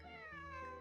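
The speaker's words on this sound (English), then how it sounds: "I take it Bonnie's her cat?" A cat meows in Genshin Impact, a single drawn-out, tonal mew with a slightly falling pitch, clear and alone without speech.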